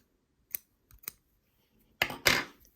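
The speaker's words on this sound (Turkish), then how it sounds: "Bir zincir yaptım. Ve ipimi kesiyorum." Scissors snip through cotton crochet yarn after a chain is finished: a few light separate clicks of the blades, then two louder, longer snipping cuts close by, with no talking.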